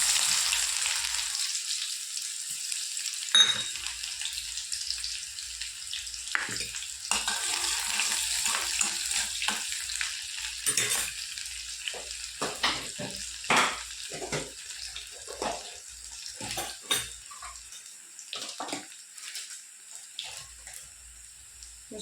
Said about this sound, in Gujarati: હવે એમાં આપણે સૌ પ્રથમ તો ડુંગળી એડ કરી દેવાની